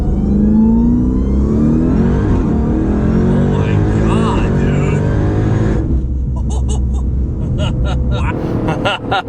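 A 900hp Jeep Trackhawk accelerating hard, its engine roar loud and close as revs climb and then drop, with voices talking over the noise toward the end.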